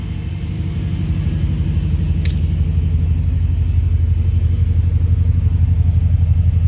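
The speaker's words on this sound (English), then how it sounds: "Got the car started, but look what we needed to do to get it started." A Mercedes CL550 runs after a jump-start, its engine holding a steady, close, low rumbling idle that grows slightly louder, with one brief sharp click early on.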